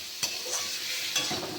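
Bhola fish with potato, tomato and onion fry lightly in a pan with a dense, close sizzle. Two brief scrapes of stirring break through it.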